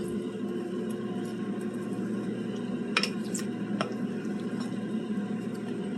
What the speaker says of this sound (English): You're going to grab your spoon. I'm going to mix everything up.